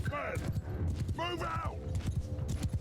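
Cavalry horses galloping in a charge in the video game Mount & Blade II: Bannerlord, with rapid clip-clop hoofbeats and battle noise and a whinny or two, under someone talking.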